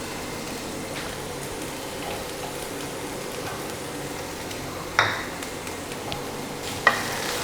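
Onions sizzle in a frying pan for egg omelet noodles, a steady hiss with two sharp clinks of a utensil stirring against the pan.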